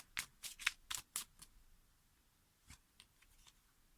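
Tarot cards are shuffled by hand, with a quick run of crisp riffling bursts followed by a few softer, scattered card flicks, close and quiet.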